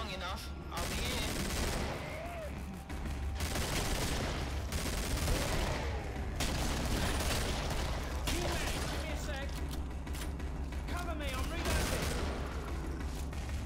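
Rapid gunfire from the video game Killing Floor rattles on continuously, dense sprays of automatic shots with a character's voice calling out over the din.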